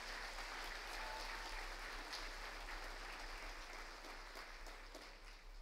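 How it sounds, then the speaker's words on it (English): An audience applauds honor students at the Weslaco High School honors banquet, steady indoor clapping from a crowd that holds fairly even and fades slightly at the end, with a low hum beneath. "One more time, round of applause to our students."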